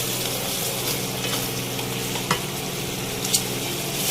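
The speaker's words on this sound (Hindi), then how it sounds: "इसको मैंने फुल फ्लेम पे इसको अच्छी तरह भूनना है कि जब तक हमारा ऑयल अलग नहीं हो जाता।" Peshawari street-style charsi mutton karahi frying in oil over a full flame, giving a steady, close sizzle with a few soft clicks of stirring and no talk.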